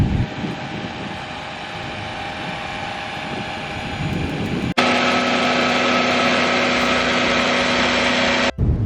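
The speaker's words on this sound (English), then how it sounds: "I'm going to finish blending all of it." Electric blender grinding soaked split peas (dal) for dhalpuri, a loud, steady motor whine that runs continuously, then jumps abruptly to a higher, harsher pitch before cutting off near the end.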